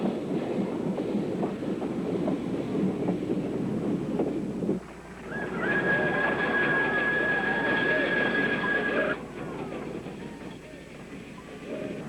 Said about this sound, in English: the narrow-gauge train then clattered off to its terminus at Nabadwip Gut on the banks of the Ganges